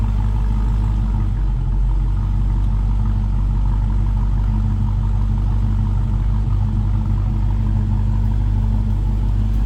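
A 2015 Dodge Challenger SRT Hellcat with a 6.2-liter supercharged Hemi V8 idles steadily, a deep, loud, continuous rumble heard close up without any talking.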